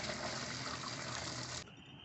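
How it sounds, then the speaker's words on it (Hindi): Water from parboiled rice for beef biryani draining in a kitchen, a steady rushing pour that stops abruptly after about a second and a half, followed by a faint trickle. "अब हम इसका पानी ड्रेन करते हैं।"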